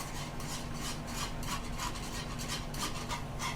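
Mango pudding mixture is stirred in a pan, producing a soft, rhythmic scraping and rubbing of the spoon against the pan, faint and close with no talking.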